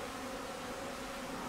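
A broad hum of many honey bees taking off from the hive in mass February flight, an even, unbroken buzzing drone at low level with no voices.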